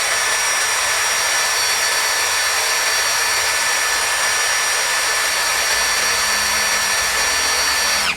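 An HL 812 V2 16V cordless impact drill runs steadily at speed setting 2, a loud close whine with a constant high motor tone that holds for about eight seconds before cutting off abruptly, with no talking.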